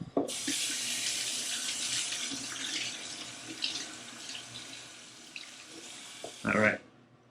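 Steady running tap water splashes continuously for several seconds as seafood is washed, close and fairly loud, ending with a brief clatter and a final splash.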